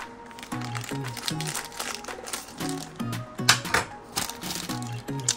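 A package is cut open close by. Irregular crinkling and snipping clicks come in quick bursts, over a faint tonal background with no speech.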